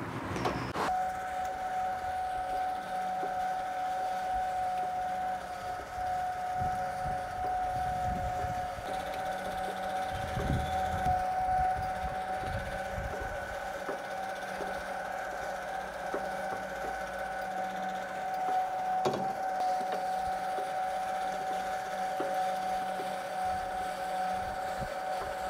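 A Swardman cylinder lawn mower cuts a lawn down to 25mm, giving a steady, close mechanical whir with a constant tonal hum throughout and occasional low rustling bumps beneath it.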